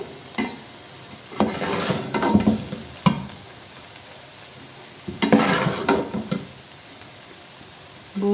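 A spoon stirs cooked rice for mutanjan, a Pakistani sweet dish, in a pot, in two scraping bursts of stirring separated by quiet pauses, with a soft sizzle underneath.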